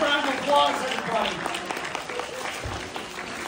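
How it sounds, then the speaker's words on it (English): An audience at a magic show breaks into a burst of clapping that carries on steadily, with a person talking over the start of the applause. "Give Gabriella a big round of applause"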